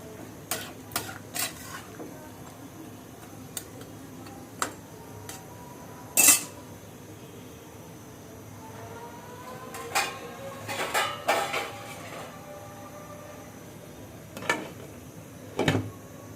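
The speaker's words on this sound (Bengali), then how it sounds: "এটা আমি একটু নাড়াচাড়া করে ঢাকনা দিয়ে ঢেকে দেবো।" A spoon stirs food in a cooking pot on a home kitchen stove, making scattered clinks and scrapes. A few sharper metallic knocks follow as a lid is handled, all fairly quiet against a low background hum.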